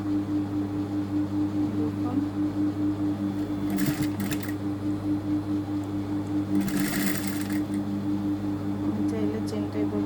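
A sewing machine stitches a zipper into a garment in short whirring bursts, with pauses between runs over a steady background hum.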